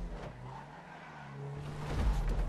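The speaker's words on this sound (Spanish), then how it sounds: "Vamos a sonar el motor ahí" A car engine in GTA V Online during a race, rising into a louder growling rev toward the end, mixed with tire noise, with no talking.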